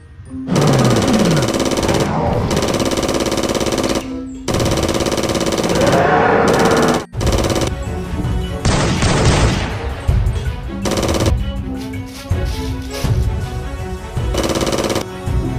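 Rapid bursts of gunfire from a shooting video game featuring sniper rifles, an AK-47, shotguns, a pistol and an M16, rattling loudly and continuously over a steady synthetic game soundtrack.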